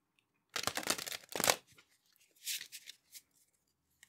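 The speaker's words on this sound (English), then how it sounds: "I'm going to shuffle again." Tarot cards being shuffled by hand, two loud rustling bursts followed by lighter taps and a final flick, alone without speech.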